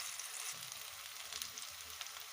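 Banana blossom chops (mochar chop) frying in hot oil give off a steady, close bubbling sizzle with small crackles and pops, constant and unbroken throughout.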